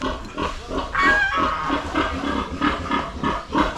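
Piglets squealing and grunting on a farm, a loud, busy run of repeated shrill squeals close by with no talking.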